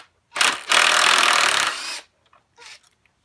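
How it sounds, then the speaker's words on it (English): Impact wrench loosening upper intake bolts on a 3.8 3800 V6, one loud rattling burst of over a second, then a short second burst, with quiet gaps around them. "I'm going to use that impact."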